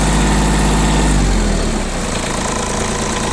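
A Mitsubishi MT155 compact tractor's small diesel engine runs loud and close, its heavy rumble shifting as the revs change partway through.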